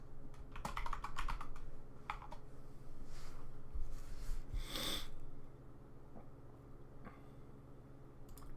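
Typing on a computer keyboard in quick clustered bursts of close, crisp key clicks, pausing briefly between runs, with no voices.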